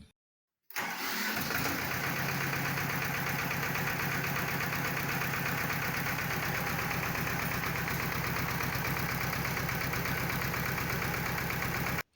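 A Xingtai 244 tractor engine, running after a head gasket replacement, starts up after a moment of silence and settles into a loud, steady, close diesel idle with an even rhythmic knock, heard alone until it cuts off at the end.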